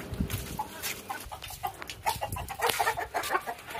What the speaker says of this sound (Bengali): মুরগিকে এখন জল দেবো।